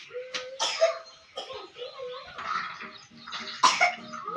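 A series of sharp coughs in short bursts, a child's hacking cough coming again and again, with some faint voices and movement around it.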